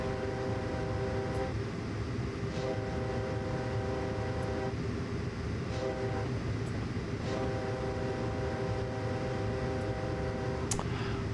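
In Train Simulator 2020, a simulated freight train rumbles along Marias Pass, its engine droning steadily while the horn sounds in several long blasts, with a sharp clank near the end and no talking.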